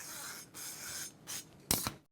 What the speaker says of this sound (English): I'm going to spray it with just a little olive oil spray.